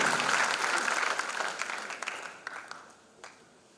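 A large audience at a gospel concert applauding loudly, a dense wash of clapping that gradually thins out and fades, leaving scattered individual claps near the end.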